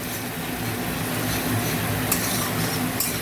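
Poppy seed and mustard seed paste fries with onion in a pan, a soft steady sizzle with faint stirring scrapes, quiet and close, with no voices.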